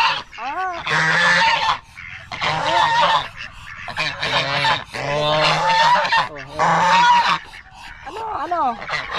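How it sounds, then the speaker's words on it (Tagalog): Geese honk loudly and repeatedly in bursts throughout, nasal calls overlapping close by with brief pauses between volleys. "Saka yung mga gansa."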